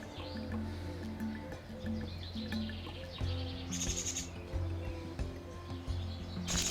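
On an autumn day, several birds chirp and call in short repeated notes and brief trills over faint background noise, moderately close, with no speech.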